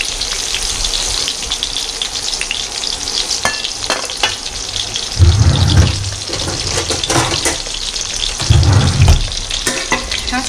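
An egg fries in a pan over lowered heat, giving a steady close sizzle and crackle throughout, with two louder bursts of spattering and occasional clicks of utensils.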